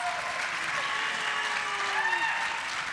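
Sustained audience applause at a gala evening, an even wash of clapping lasting the whole stretch with faint voices underneath.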